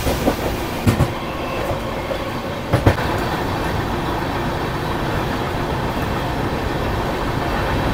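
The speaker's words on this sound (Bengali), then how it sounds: "আমরা এখন পন্ডুরু স্টেশন ছাড়িয়ে যাচ্ছি" Loud steady rumble and rattle of the Chennai Mail express running past Ponduru station, heard from on board, with a couple of sharp clanks from the wheels early on.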